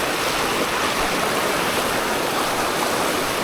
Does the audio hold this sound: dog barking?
no